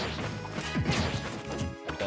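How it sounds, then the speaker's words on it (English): Forward smash attacks from a Super Smash Bros. tournament match between Meta Knight and Ness, a run of sharp, loud impact hits and crashes over game sound effects and music, with no speech. "He's trying to keep himself safe with these forward smashes"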